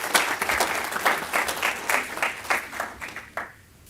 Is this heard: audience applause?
yes